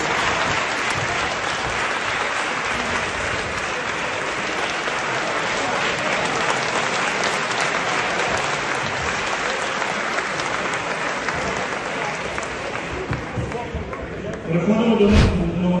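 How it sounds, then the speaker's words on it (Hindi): Government ministers and officials applaud a departing official with a long, dense, steady roll of clapping that continues at a constant level throughout, swelling a little louder near the end. "सबने मिलकर तालियां बजाकर उनको विदा किया।"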